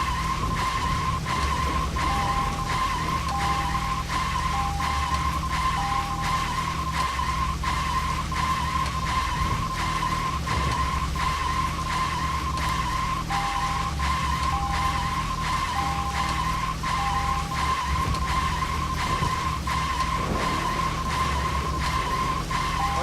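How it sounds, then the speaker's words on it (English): Continuous engine roar with skidding tires throughout, a car sound loop from the video game Deadly Premonition with a steady rhythmic ticking and no talking. "Oh god, this car noise."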